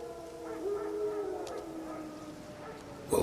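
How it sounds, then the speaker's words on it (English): Wild dogs howl in the fantasy video game The Witcher 3, a drawn-out tonal howl wavering at a distance over a quiet ambient background. "Wild dogs. Yes. More dangerous than wolves."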